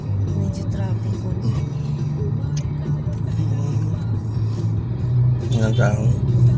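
Low engine rumble from inside a car moving through road traffic in Cagayan de Oro, steady with passing-vehicle noise, while people talk intermittently over it.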